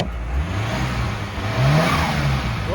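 A kei car with an aftermarket exhaust revs nearby, its engine rising and falling in a steady mid-pitched drone, then swelling louder near the end, heard alone without talk.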